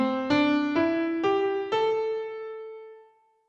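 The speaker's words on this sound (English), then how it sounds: "And a minor pentatonic scale sounds like this." A minor pentatonic scale ascends note by note on a pitched instrument, five clear plucked or struck tones about half a second apart, the last one ringing out and fading alone.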